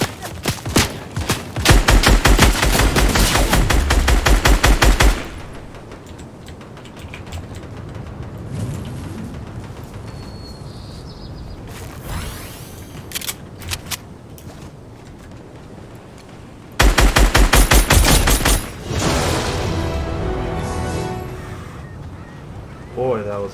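Video game gunfire comes in two long, loud, rapid automatic bursts separated by quieter stretches of game noise.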